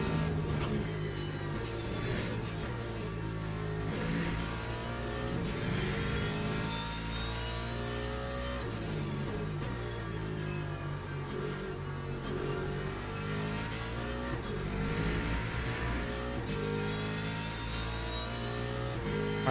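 LMP2 prototype race cars in the Le Mans Ultimate sim racing game at Imola, a continuous engine drone with shifting pitch as cars rev and pass, no talk.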